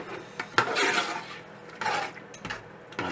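A spoon stirs lamb chop masala with garam masala in a metal pan, giving close scraping and clinking strokes in an irregular rhythm, with several sharper knocks against the pan.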